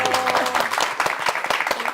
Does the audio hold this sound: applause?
yes